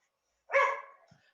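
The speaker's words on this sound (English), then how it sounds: "I don't think the people on Twitch want to hear your barking." A dog gives a single short bark, close and fairly loud, followed by silence.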